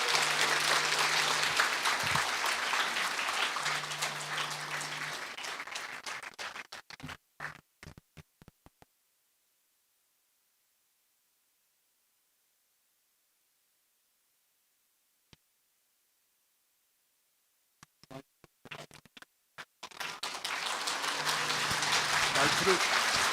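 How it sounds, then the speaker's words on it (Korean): Lecture hall audience clapping to welcome a professor on stage, a loud burst of applause that fades into near silence with scattered claps and rustles, then a second round of clapping rising at the close. "여러분 큰 박수로 환영해 주시기 바랍니다."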